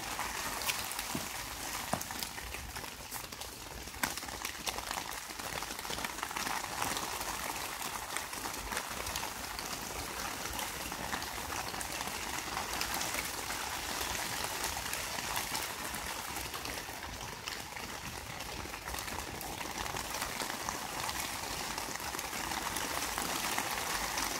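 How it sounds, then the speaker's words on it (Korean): Steady rain pattering down on a tent at an autumn campsite, a dense continuous hiss of drops with no pauses, fairly even in loudness throughout and no voices. "뒤에도 지금 빗방울이 계속 떨어지고 있는데"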